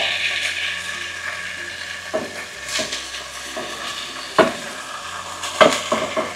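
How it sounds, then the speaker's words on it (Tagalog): Chicken frying in a pan for Filipino chicken afritada, a low sizzle under occasional spatula clinks and scrapes against the pan, close and without talk. "Iprituin natin din siya."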